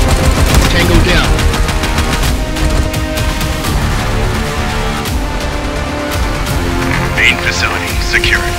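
Gunfire in the video game Dysterra rattles continuously and loudly as rapid automatic bursts and shots layered over a dense game soundtrack, with voices talking amid the shooting.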